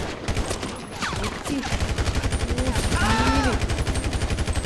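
Rapid automatic gunfire from the video game GTA 5 rattles in a steady, fast stream of sharp shots through most of the stretch, with someone talking over it.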